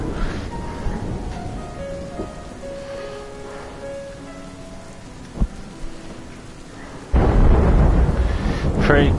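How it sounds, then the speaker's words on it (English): Thunder in the video game This Is the Police 2, a steady rain-like wash with a low rumble, swelling to a loud heavy roar near the end. "Oh fuck, it's thundering."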